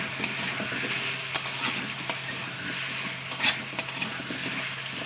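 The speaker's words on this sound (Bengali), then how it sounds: "কচুটা দেওয়ার পরে না কিছুক্ষণ আমার প্লেন তেলে নাড়তে হবে।" Taro pieces stirred in hot plain oil in a pan hiss with a continuous sizzle, while a metal utensil scrapes and clinks against the pan in irregular sharp knocks.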